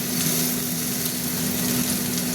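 A masala of papaya, boiled tomato, grated ginger and coriander powder sautés in a pan, giving a steady, close, even sizzle with no breaks and no talking.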